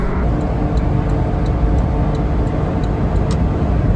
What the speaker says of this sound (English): But this being a naturally aspirated Kei van, I'm cruising.